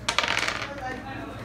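Dice clatter and skitter across a hard surface in one quick roll, a bright rattle that settles within a second, loud and close.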